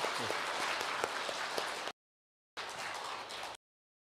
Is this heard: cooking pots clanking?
no